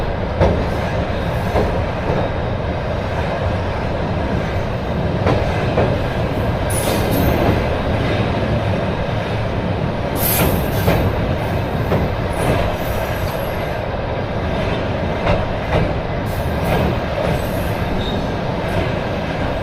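A Soviet-era night train rolls from Moldova into Romania across the Eiffel Bridge, a steady loud rumble of wagons with rhythmic wheel clatter and occasional high metallic squeals, continuous throughout.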